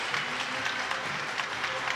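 A crowd at a shot put event claps and cheers for thrower Nick Curtis in a steady wash of applause that sounds fairly distant and lasts the whole time.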